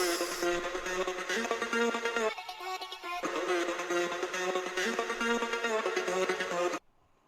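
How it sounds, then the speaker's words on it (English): A bright psytrance synth lead plays a repeating melodic line that climbs in pitch, loud and dense with stacked harmonics, dropping out briefly in the middle before resuming and cutting off abruptly near the end. "Basically it's the same lead pitching up"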